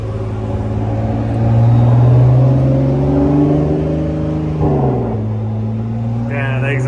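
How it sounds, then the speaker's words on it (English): A twin-turbo Infiniti G35 with very high mileage idles and revs up, its engine and exhaust giving a loud, steady rumbling drone that rises and falls in pitch, with a brief shift partway through. "Yeah, the exhaust sounds pretty damn good though."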